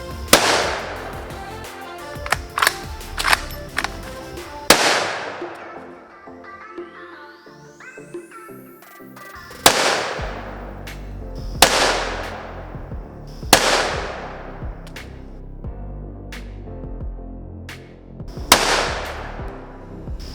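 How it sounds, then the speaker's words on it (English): Bushmaster .450 rifle fired in the woods, about seven loud, sharp gunshots spaced a few seconds apart, each followed by a long ringing echo decaying through the trees. "Hopefully you enjoyed it, watching me shoot some trees."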